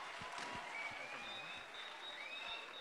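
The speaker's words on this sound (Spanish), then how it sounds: "Un fortísimo aplauso para el grupo Scout Hércules 283." Faint, distant applause from an audience at a Galician scout festival honoring a scout group, a soft steady patter with scattered claps and a few whistles.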